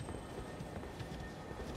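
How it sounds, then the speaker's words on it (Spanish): Horse hooves clip-clop in the video game Elden Ring, a steady run of soft, quick beats under a constant wash of game ambience and noise. "¿Caballos?"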